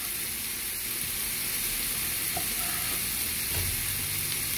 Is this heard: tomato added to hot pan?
yes